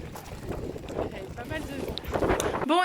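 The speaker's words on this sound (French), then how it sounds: "il y a du vent quand même. Il y a pas mal de vent." Wind blows outdoors on a family walk, a steady rumbling buffet across the microphone, joined by a voice at times and by a child's high cry near the end.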